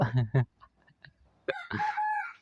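A chicken clucks and crows in the LINE Let's Get Rich mobile board game, with short staccato clucks followed by a drawn-out crowing call, heard briefly and clearly.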